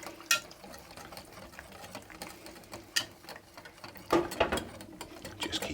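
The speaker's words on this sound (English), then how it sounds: "Just keep giving it a little stir" Pancake batter of eggs, milk, flour and salt being stirred in a bowl, giving faint irregular scraping clicks and taps, with a louder cluster of knocks toward the end.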